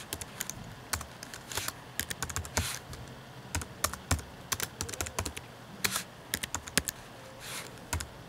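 Computer keyboard typing while a resume is being edited: steady irregular bursts of close, crisp key clicks with occasional louder strikes, and no voices.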